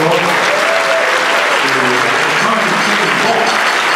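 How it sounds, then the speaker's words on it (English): A loud, dense round of audience applause at a Progress Singapore Party event, sustained throughout with some crowd voices mixed underneath. "one more time, can you please give a nice round of applause"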